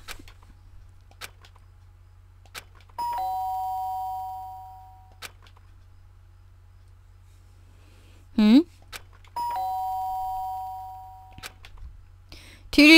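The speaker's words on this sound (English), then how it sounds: "I was brought back to reality by the sound of the doorbell." A doorbell chime from the video game Danganronpa sounds twice, each a sustained electronic tone lasting about two seconds and fading out, set among quiet game sound effects.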